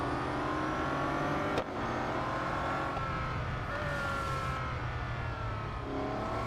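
A race car engine in the Real Racing 3 video game drones at high revs, holding a steady loud whine with slight pitch shifts and a brief whoosh as another car, a Porsche, passes, with no talking.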